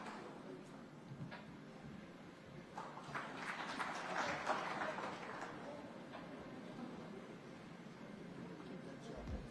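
Applause from an audience at the India Today Education Summit in Tirupati greets the Andhra Pradesh Chief Minister, a moderate wash of clapping that swells in the middle and tapers off, with a faint voice underneath.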